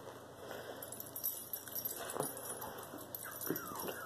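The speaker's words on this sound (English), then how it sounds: "I think it's the first time the other dogs have been allowed by the puppies." Toy Australian Shepherd puppies and adult dogs give soft, scattered yips and whimpers at a modest distance over a quiet background, with a few brief high squeaks.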